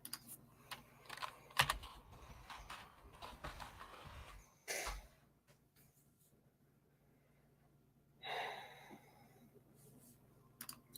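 Clicks and clacks from a new computer keyboard, scattered keystrokes in irregular bursts with a couple of heavier presses like the enter key, fairly quiet and close, with faint background noise.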